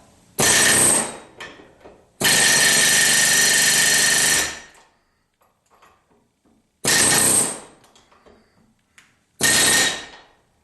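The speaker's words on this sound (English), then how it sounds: "hit these with the hammer a little bit to hopefully break the rust bond" Hammering on a rusted U-joint of a 1976 Corvette half shaft comes in four loud, harsh bursts of rapid metallic pounding, each lasting a second or two, with quiet gaps between them and no speech.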